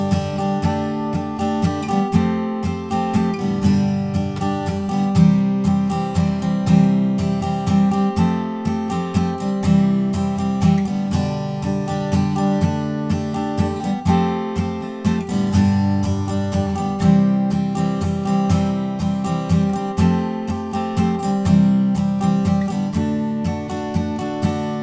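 Acoustic guitar strumming the verse chords of a song, a steady rhythmic strum pattern with ringing chords, played solo and up close without any singing.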